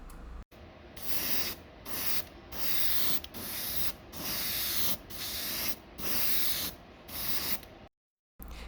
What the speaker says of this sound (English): Now I'm doing it spray by spray.